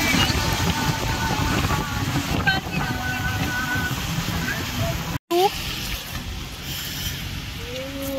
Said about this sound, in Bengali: প্রচন্ড বৃষ্টি, ঢুকতে পারছি না, পুরো ভিজে গেছি